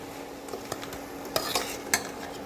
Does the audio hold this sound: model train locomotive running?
no